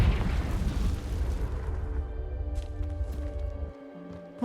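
A Confringo spell explosion in the Hogwarts Legacy video game, heard as a loud, dense rumbling boom that decays over a few seconds into a fading tonal ring before cutting off.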